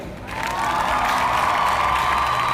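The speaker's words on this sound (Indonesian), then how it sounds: "Tepuk tangan untuk kelompok 3." Clapping and cheering for the third group in an online microteaching session, rising quickly from quiet into a sustained, even roar of applause that continues to the end.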